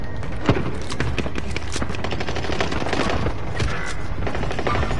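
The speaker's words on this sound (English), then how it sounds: "I have a literal machine pistol that is so trash." Rapid machine pistol fire in a Call of Duty game set in the Pacific, with steady bursts of close, dense shots rattling throughout amid battle noise.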